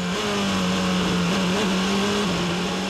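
A Toyota or Porsche endurance prototype at the Nürburgring 6-hour race accelerating out of a chicane, a loud sustained engine drone climbing in pitch with brief dips at each upshift.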